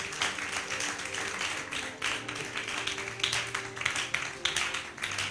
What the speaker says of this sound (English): I want us to clap our hands as he goes